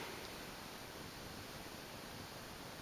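A 1980 4 Saisons 36-inch ceiling fan turning at a slow speed gives a faint, steady broadband whoosh of moving air, even and unbroken throughout with no other sounds.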